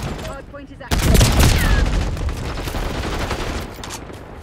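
Gunfire in Call of Duty Black Ops 6 on the Nuketown map: a loud burst of rapid shots and booms begins about a second in and continues as dense fusillade, with players' voices talking over it.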